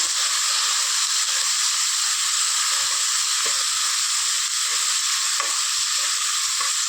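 Onions and mint sautéing in hot oil for a home-cooked Tamil rice dish give a loud, continuous close-up sizzle and hiss, with faint stirring scrapes throughout and no voices.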